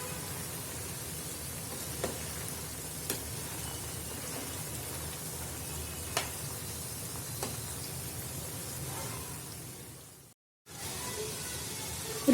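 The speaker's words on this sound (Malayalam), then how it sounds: "ഇത് തിരിച്ചിട്ടതിന് ശേഷം മീഡിയം ഫ്ലെയിമിൽ തന്നെ ഇട്ട് ഫ്രൈ ചെയ്തെടുത്താൽ മതി." Chicken pieces for a Kerala-style chicken pickle fry on a medium flame, giving a steady, moderate sizzle that holds throughout with no talking and drops out briefly near the end.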